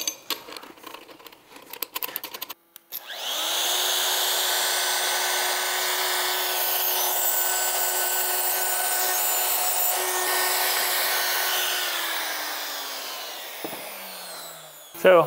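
A router fitted with a 1/2-inch bushing cutting a bow tie recess in wood, a sustained high, steady whine with a grinding edge, loud and close, preceded by brief clattering handling noises and ending abruptly.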